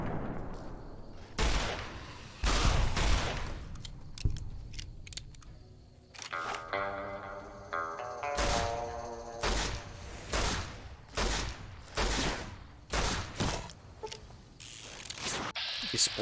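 BAR automatic rifle fired in a video game, loud sharp bursts of full-auto fire repeating at irregular intervals, mixed with mechanical clicks and brief talk.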